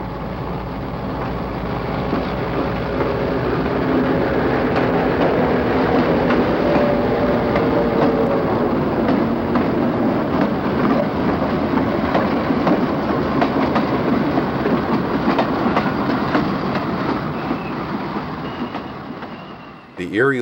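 A Conrail freight train hauled by Erie-Lackawanna locomotives, leaving Croxton Yard, rolls past with a steady, loud rumble and clickety-clack that holds for about twenty seconds and then fades out at the end.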